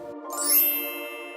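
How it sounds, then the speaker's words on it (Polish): A bright, glassy tinkle rings out once and lingers, like an ice-coated branch chiming when touched, clear and close with a slow shimmering fade. "Kiedy Emma trąciła jedną z nich, ta wydała przyjemny dźwięk."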